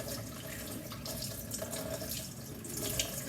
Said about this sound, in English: just putting it under the cold water